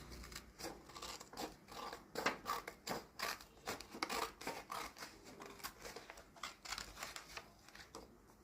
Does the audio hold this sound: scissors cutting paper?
yes